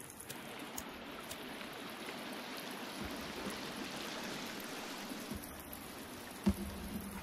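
Water flows steadily in a forest stream in the survival game The Forest, a faint, even rushing that runs the whole time, with a single soft knock near the end.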